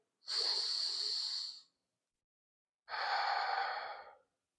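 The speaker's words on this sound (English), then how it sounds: "we'll seal the practice with a deep cleansing breath in and out" Two long, close breaths at the end of a power yoga session: a slow deep inhale, a pause of silence, then a full exhale, each breathy and unvoiced, with no talk.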